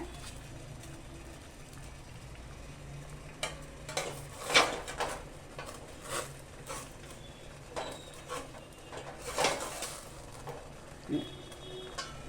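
A dish of stuffed steamed dumplings (ukadichya nevrya) is set into a steamer over boiling water in a home kitchen. A few sharp metallic clinks and clatters sound against a quiet background.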